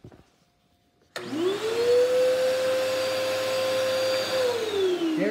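A Bissell Powerforce bagless vacuum cleaner, clogged and pulling very little suction, switches on after a moment of quiet, its motor rising to a loud, steady whine that holds for several seconds.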